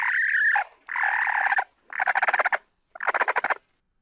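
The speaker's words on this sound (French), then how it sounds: "Il s'agissait de la trille de ponte." A hen's egg-laying trill: four drawn-out, buzzing calls, the later ones breaking into rapid pulsing, loud and close with short gaps between.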